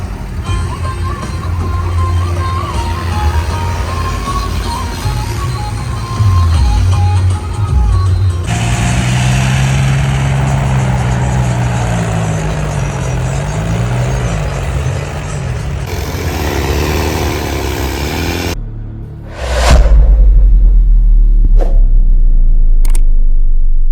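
Tractors run on a flood-damaged farm embankment in Punjab, with loud, steady engine rumble and idling throughout, shifting as machines move, plus a few sharp knocks near the end.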